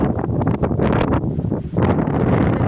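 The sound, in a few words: strong wind blowing into the microphone outdoors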